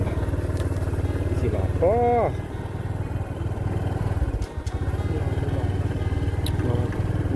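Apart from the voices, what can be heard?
motorcycle being ridden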